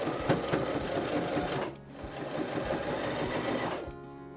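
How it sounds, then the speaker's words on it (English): A sewing machine runs steadily, stitching a small hem slowly around a fat-quarter fabric piece, its close, continuous motor whir and needle chatter dipping briefly near the middle before resuming. "You just want a very small hem and you stitch slowly all the way around."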